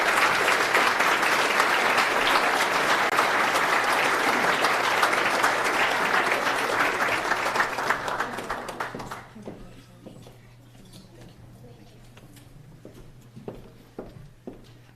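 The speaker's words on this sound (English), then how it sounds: "And a round of applause" Audience applause at a business awards ceremony: a dense, loud wash of clapping for about eight seconds that then thins out and fades, leaving a quiet room with a low hum.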